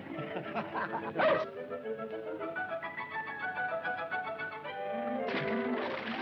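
A dog barks in an old 1932 film scene, giving sharp yips near the start and again near the end, with a whimpering, tonal stretch and music-like sound between them.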